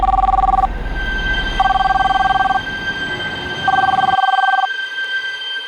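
A landline telephone rings in repeated double-tone bursts, three rings spaced about a second apart, loud and close over a low background hum, with the line going quiet afterward.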